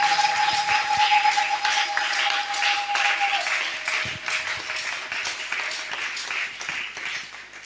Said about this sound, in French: acclamer pour le Seigneur